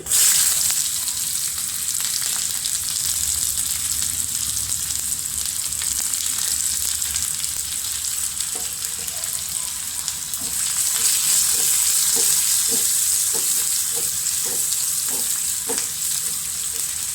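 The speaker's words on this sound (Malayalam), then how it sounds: "ഉള്ളി മൊരിയട്ടെ കേട്ടോ." Onions and mustard seeds fry in hot oil with a steady, dense sizzle for the whole stretch, with scattered sharp seed pops and crackles growing more frequent toward the end, close and fairly loud with no talk.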